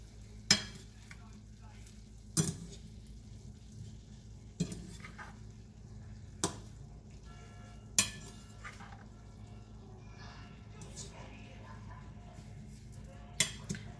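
Shrimp scampi tossed and stirred in a pan, with a low steady sizzle under repeated sharp utensil clinks against the pan at irregular intervals, close and moderately loud.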